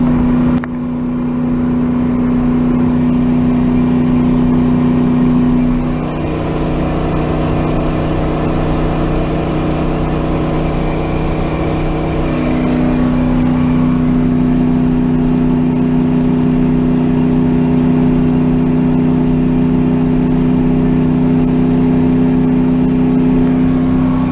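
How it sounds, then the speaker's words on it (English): A heavy engine drones loudly and steadily throughout, its pitch dipping and climbing as it revs, with a constant mechanical whine on top. "Listen to this truck."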